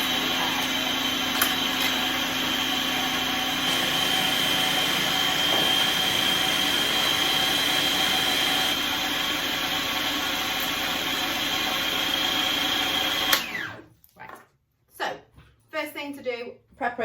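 A food processor spins hummus paste in a home kitchen with a steady, loud motor whir for about thirteen seconds, then stops, and a person starts talking.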